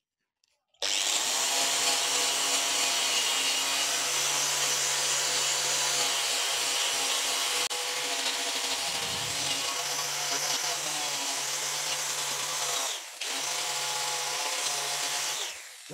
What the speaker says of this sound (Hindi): अभी इसके ऊपर हम पॉलिशिंग करेंगे देखते हैं